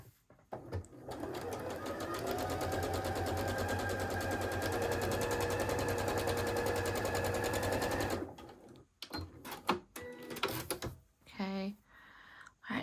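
A sewing machine stitches a quarter-inch seam for a quilt block in a rapid, even mechanical run of about seven seconds, then stops, followed by scattered handling clicks and brief talk.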